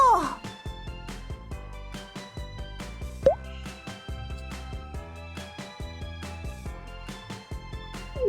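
Soapy dish-soap solution on a bottle mouth gives a run of irregular soft wet plops and drips, close and fairly quiet, with brief squeaks of breath between them.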